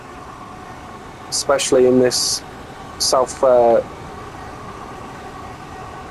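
Inside a Class 465/9 Southeastern electric train in motion, a steady low rumbling hum and air-conditioning-like whir continue beneath a man's brief speech.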